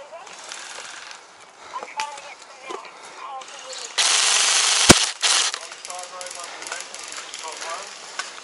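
Gunfire in a night match on the Nuketown map, scattered shots and short bursts with one loud sustained burst near the middle and a sharp crack, mixed with game noise and voices.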